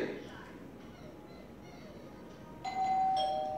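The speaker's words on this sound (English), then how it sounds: "Somebody's at the door." A doorbell chimes clearly in a quiet house, a single ringing tone near the end of a stretch of faint background noise.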